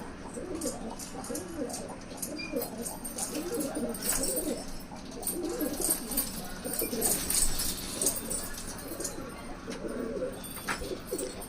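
Pigeons bred for long flying give soft, repeated throaty coos in a steady rolling rhythm, close and moderate in loudness, with someone talking now and then underneath.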